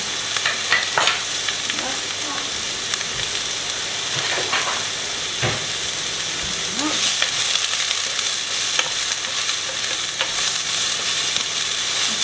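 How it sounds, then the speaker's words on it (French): Onions hit hot oil in a pan and fry with a loud, steady sizzle and hiss, broken by a few clattering stirs and knocks, close and continuous with no voices. "là il y a de l'huile, je vais mettre des oignons"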